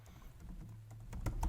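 Computer keyboard keys tapped close by while a password is typed, a short burst of quick, uneven clicks over a faint low hum.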